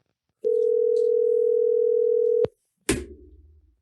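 A telephone dial tone rings out as a steady, loud continuous tone for about two seconds while a podcast host calls a guest, then cuts off, followed by a brief burst of line noise.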